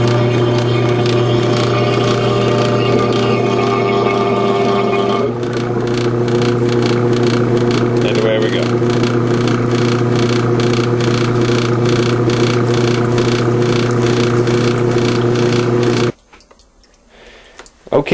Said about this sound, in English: so I'm going to pump into this barrel.